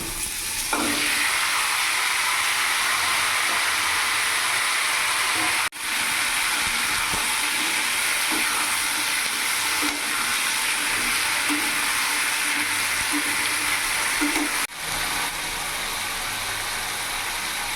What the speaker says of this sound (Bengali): এবার কেটে রাখা সবজিগুলো দিয়ে দেবো